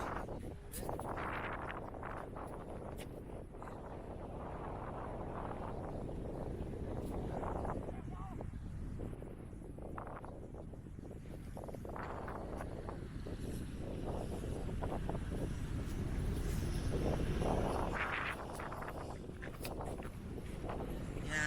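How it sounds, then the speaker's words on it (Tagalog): Strong wind buffets the microphone on a mountain at Bokor, a low, gusting roar that swells and fades for about twenty seconds, with faint movement noises beneath it. "Ang lakas ng hangin."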